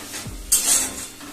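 A spoon briefly scrapes through spices cooked with salt and tomato in a pan for a duck egg kosha, with a soft sizzle and a sharper clink partway through.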